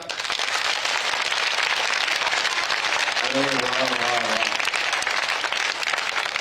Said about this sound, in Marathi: सगळे जरा हात वर करून टाळ्या वाजव बरं जरा